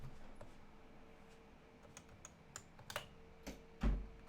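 Typing on a Happy Hacking Keyboard (HHKB), a run of light, uneven key clicks close up in a quiet room, ending with one heavier thump.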